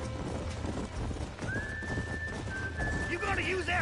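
Horses in the Red Dead Redemption video game, with a whinny and clip-clopping hooves over steady game music and a sustained whistle-like tone, while voices talk throughout.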